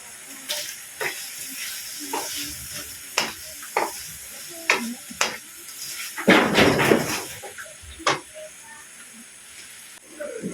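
Shrimp sautéing in a pan for chopsuey, a hissing sizzle broken by repeated sharp scrapes and clanks of a spatula, with a louder burst of frying midway, heard up close.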